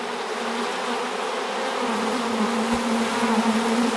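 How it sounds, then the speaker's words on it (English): A dense, loud swarm of honey bees buzzing close by in a steady droning hum as they are shaken into a new hive box, with a soft thump partway through. "And I'll just grab a couple of bees like off here and just shake them into the new box."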